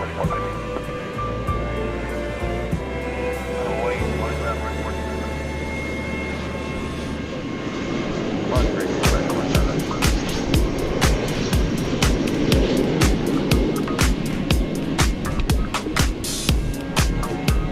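A jet airliner taking off at night at Dallas-Fort Worth International Airport, a broad roaring rumble that swells louder partway through, with a steady tonal hum early on and crackling engine noise building as it climbs away.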